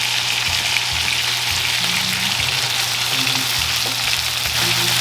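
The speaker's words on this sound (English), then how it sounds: "You can hear the frying." Beef stew pieces sizzle and fry in a pan with a steady, dense crackle throughout, close and continuous, with faint stirring knocks.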